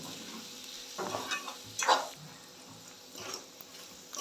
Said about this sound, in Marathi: कांदा मी 1-2 मिनटं परतून घेते आहे